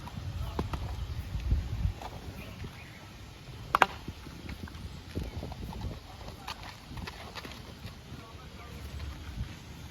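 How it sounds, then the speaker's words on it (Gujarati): A mare being led out of her stable makes soft, irregular hoof clops, with a sharper knock partway through, beneath people talking and some wind noise outdoors. "ઘોડી બાર જેમ જેમ કાઢતો જાય એમ તમને મિતભાઈ દેખાડતા જાય"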